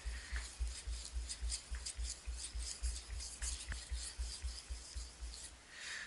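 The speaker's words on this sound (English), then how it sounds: "It's okay to lift the knife just slightly just to make sure you get that tip sharpened up." Knife blade stroked repeatedly across a sharpening stone up to the tip, a close rhythmic rasping scrape about twice a second, steady and fairly quiet.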